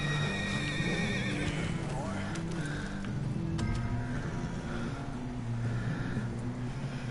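Horses neigh and whinny in the Red Dead Redemption 2 video game, with hoof clip-clop and a steady low rumble underneath, the calls repeating in short bursts over continuous background noise.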